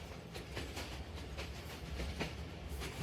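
Sialkot Express train speeding past in open countryside, its wheels giving a steady rhythmic clickety-clack over the rails with a low rumble beneath, fairly close and continuous.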